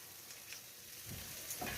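Beans sizzling and frying in a pan on low heat, a steady soft crackle with a few stirring scrapes and brighter spatters near the end, no voices.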